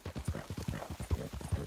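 Horse hooves clip-clop rapidly in Red Dead Redemption 2 as a spotted Appaloosa moves at a quick gait, a dense run of soft rhythmic thuds, fairly faint and close, with no voices.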